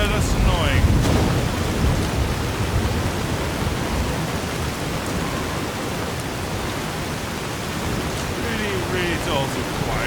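A thunderstorm in the video game Fallout: New Vegas: a steady, dense wash of rain hiss and low rumble fills the whole stretch, with brief voice fragments near the start and end.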